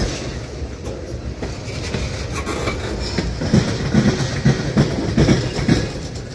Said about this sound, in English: There's no way that small locomotive is gonna pull all of that by itself up a hill.